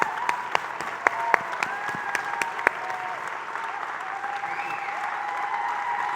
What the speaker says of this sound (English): So can we give these two a giant round of applause again as we end?